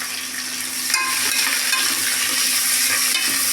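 Onions sizzle and crackle steadily in a hot pan while making beetroot biryani, with occasional stirring scrapes; close and fairly loud, no talking.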